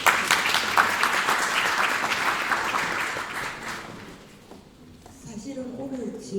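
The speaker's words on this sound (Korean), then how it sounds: "박수 청해 듣도록 하겠습니다" Audience applause at a community concert in Daegu, a dense wash of clapping from many hands that fades after about four seconds, then gives way to someone speaking over a quieter room.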